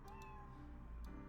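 A cat meows in the video game Professor Layton vs Phoenix Wright, a short, high, faint mew that rises and falls over a soft game-music bed.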